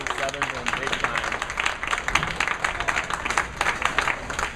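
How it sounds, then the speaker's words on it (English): Crowd applause at a drum and bugle corps competition, a steady dense wash of many hands clapping close and loud, with talk over it. "That's one of the bigger rounds of applause I've heard, and it can't be any more deserved."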